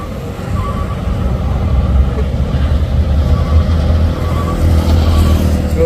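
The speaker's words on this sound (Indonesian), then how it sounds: "Trailer Hino Isoteng menurun." Hino trailer truck rolling downhill on a hilly road, giving a steady low engine drone and rumble that holds fairly loud throughout, with no talk.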